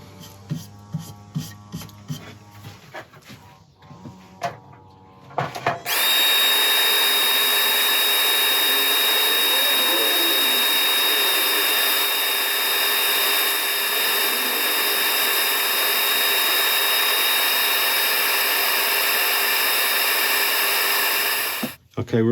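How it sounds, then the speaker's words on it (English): A resin-inlay wooden bowl spins on a lathe while being sanded, first with scattered rubbing and tapping, then a loud steady whirring hiss that holds for about fifteen seconds before cutting off. "Now we sand."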